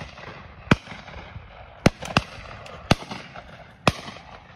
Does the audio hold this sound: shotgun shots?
yes